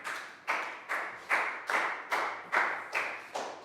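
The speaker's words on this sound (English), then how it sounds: "Big round of applause for Bangpon" A short run of clapping in a Year 3 English lesson, eight or so evenly spaced claps with a ringing room echo, close by and unaccompanied by voices.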